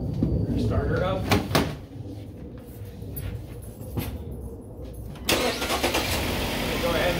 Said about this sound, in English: We're gonna start her up.